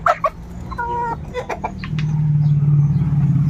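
Chickens cluck and squawk at close range while being fed, short bursts at the start, with a steady low engine-like hum rising underneath toward the end.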